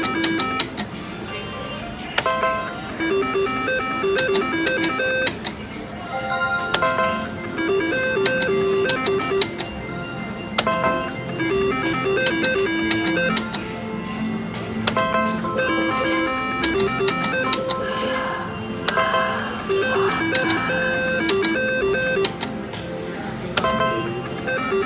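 A Double Diamond Deluxe slot machine spins in a casino, giving off a steady run of electronic chimes, beeps and mechanical clicks at moderate loudness.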